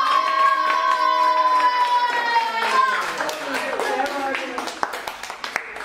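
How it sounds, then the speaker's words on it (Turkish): A small audience in an acting class applauds a child. Sustained tonal singing or music comes first, then a burst of scattered hand clapping builds and thins out toward the end. "O yüzden böyle kocaman bir alkışlayın"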